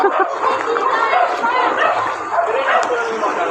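A dog barks and yips excitedly over a steady noisy background during typhoon flooding, with people talking nearby.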